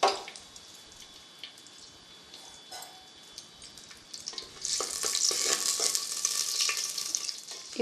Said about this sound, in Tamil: இப்போ கடுகு நல்லா பொரிஞ்சு போச்சு.